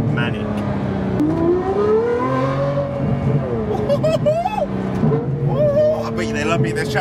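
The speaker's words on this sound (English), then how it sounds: "I've done a few rips to the exhaust, as you've seen, stainless metal in here" A Lamborghini Revuelto fitted with a Gintani F1 stainless steel exhaust revs close by, its engine pitch climbing and falling through rising sweeps, with someone talking over the engine sound.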